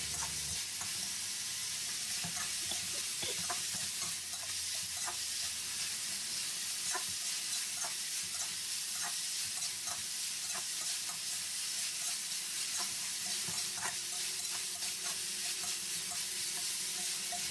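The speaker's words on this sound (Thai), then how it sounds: "จากนั้นเราก็ผัดต่อให้ดอกขจรเราสุกนะครับ ระดับไฟเราก็ยังใช้เป็นระดับไฟแรงเหมือนเดิมนะครับ" Cowslip creeper flowers and minced pork stir-fry over high heat, giving a steady close sizzle with regular spatula taps and scrapes against the pan throughout, no voices.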